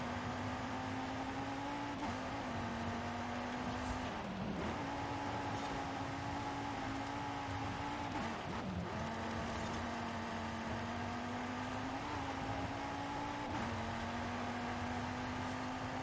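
A racing car in Forza Horizon 5 drones steadily at a sustained engine pitch, shifting slightly through gears and corners, with brief scrapes or bumps now and then and no talking.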